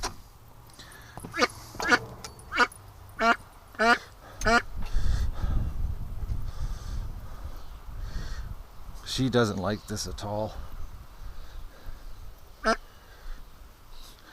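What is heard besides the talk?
duck quacking loudly while being handled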